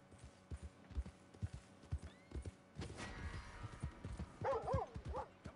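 Hooves of a big black horse in Red Dead Redemption 2 clip-clop in a steady rhythm, close and distinct, with a dog barking and a horse whinnying briefly toward the end.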